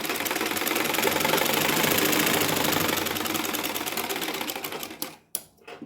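An electric sewing machine stitches a blouse sleeve in a fast, steady mechanical rattle that runs loud and continuous, then slows and stops with a few short bursts at the end.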